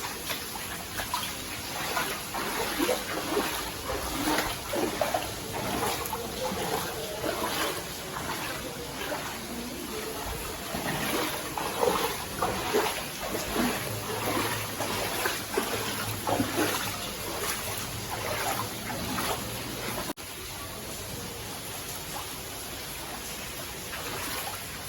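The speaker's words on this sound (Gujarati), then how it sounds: "આખા ઘરમાં પાણી થઈ ગયું છે." Floodwater from heavy rain filling the inside of a house in Vadodara, a continuous rushing, trickling wash of water heard up close, with faint voices underneath.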